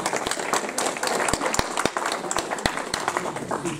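Applause from an audience at a Téléthon charity event in Ploufragan, a steady wash of clapping with a few sharp, louder claps standing out close by, with faint voices mixed underneath.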